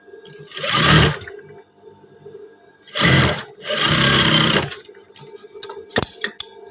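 A sewing machine stitches darts on long trousers in three short bursts of fast, whirring stitching separated by pauses. Faint handling clicks and taps come near the end.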